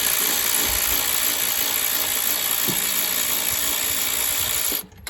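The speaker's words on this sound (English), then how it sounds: "Now let's undo the screws that are holding on the alternator." Power tool unscrewing alternator mounting screws on a 4-cylinder 2012 Toyota Camry, a steady close whirring drive running for several seconds before cutting off.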